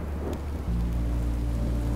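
Rain and a low rumble of thunder in the video game Minecraft: Story Mode, with steady hiss of rainfall and a deep roll swelling in partway through.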